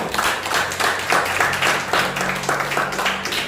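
Audience applause at a speaking event: a crowd claps steadily and loudly for several seconds, a dense continuous patter with no talking over it.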